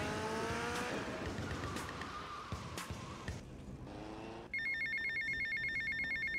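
A phone ringing in a video game cuts in with a bright, pulsing electronic ring that repeats steadily, following engine roar and tire squeal from racing cars in the game.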